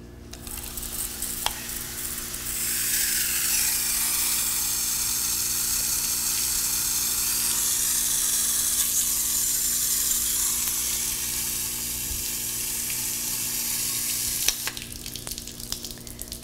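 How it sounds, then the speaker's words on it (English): Water poured into a dry potted plant's soil, setting off a steady fizzing, crackling hiss of rising air bubbles that holds close and fairly loud for most of the stretch before thinning out, with no talk. "there's a bunch of bubbles coming up. That's a sign that your plant is pretty dry."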